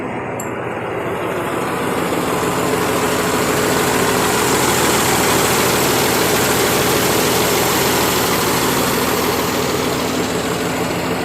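An engine runs steadily nearby, a loud continuous rumble with a low throbbing idle and rattling vibration, with no voices over it.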